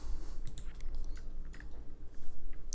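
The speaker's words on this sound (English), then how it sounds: "I can hear you munching as well." Someone munches and chews food close up, with wet, irregular crunchy bites and small clicks over a low steady background hum.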